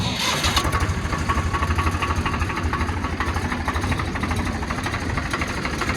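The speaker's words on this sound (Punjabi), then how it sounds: "ਇੱਕ ਵਾਰੀ ਆਪਾਂ ਤੁਹਾਨੂੰ ਟਰੈਕਟਰ ਦੀ ਸਟਾਰਟਿੰਗ ਆਵਾਜ਼ ਚੈੱਕ ਕਰਾ ਦਈਏ ਪੂਰੀ ਘੈਂਟ ਆਵਾਜ਼ ਆ ਟਰੈਕਟਰ ਦੀ" A Swaraj 735 tractor engine starts and settles into a steady, loud, close diesel idle with a rapid even throb that continues throughout.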